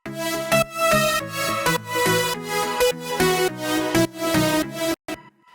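A bright, layered riff melody dubbed about seven times plays steadily in rhythmic phrases, loud and continuous, cutting off abruptly near the end.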